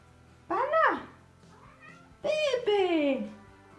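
A house cat gives two drawn-out, rising-and-falling meows, loud and close indoors, the second longer and more insistent, with a faint low hum beneath.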